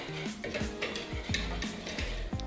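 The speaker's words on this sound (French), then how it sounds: "je vais ajouter ma maïzena en une fois, ou mon mélange de farine et de maïzena. Et je vais mélanger légèrement" Whisking cornstarch, or a flour and cornstarch mix, into a thickening pastry cream in a pot: a steady run of close scraping and stirring strokes with light clinks of the whisk against the pan.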